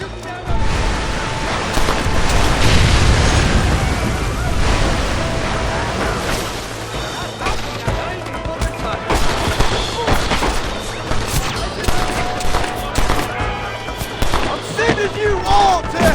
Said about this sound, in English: Watch the top of that cliff! They're shooting down on us!